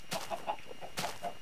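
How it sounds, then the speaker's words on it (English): Chickens in the video game Minecraft give a series of short, soft clucks in an uneven rhythm, fairly close, with no talk over them. "I hear chickens."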